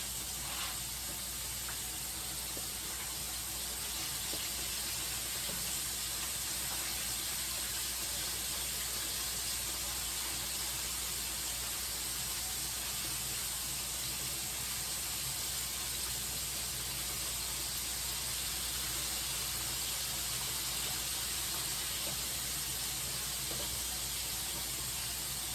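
Lemon pepper chicken wings fry in a pan, giving a continuous, fairly faint hiss and sizzle of hot oil that holds steady throughout, with no talking over it.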